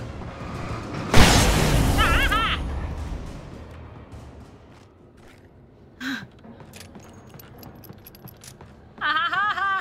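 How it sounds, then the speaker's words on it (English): A single sharp, loud flashbang blast in Alan Wake Remastered, followed by a fading rumble, with a few quieter clanks and bursts afterward. "Flashbang!"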